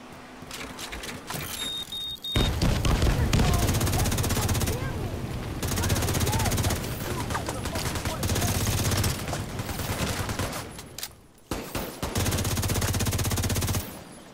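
Assault rifle fire in The Division 2: Warlords of New York comes in several long, loud, rapid automatic bursts separated by short pauses, with someone briefly speaking between them.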